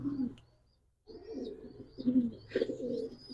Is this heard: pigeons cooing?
yes